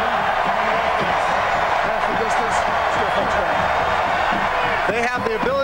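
Loud football stadium crowd at a 2001 Maryland vs Florida State game, a dense continuous roar of cheering heard from down on the field, with a commentator talking over it throughout.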